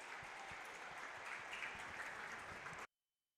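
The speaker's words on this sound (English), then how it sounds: "Arthur Labinjo-Hughes will be honoured with a minute's applause at St Andrews." A large stadium crowd applauds steadily at St Andrews during a minute's applause before a women's football match, a dense continuous roar of clapping that stops abruptly.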